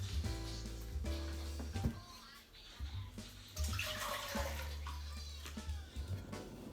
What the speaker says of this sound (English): I'm just going to add everything to the pot with some water and leave that start to cook